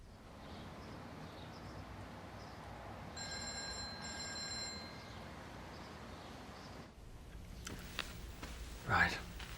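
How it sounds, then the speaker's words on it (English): An old telephone bell ringing indoors, one clear harmonic ring lasting about a second and a half against a faint background hiss, followed by soft handling sounds. "And I remember the phone ringing"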